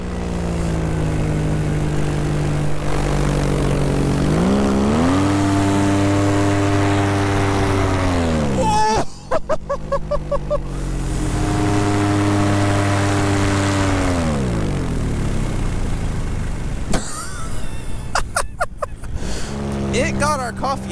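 Small airplane engine drones loudly through an inverted barrel roll, its pitch rising and falling in long sweeps as the load changes, with a rough buffeting patch in the middle and near the end.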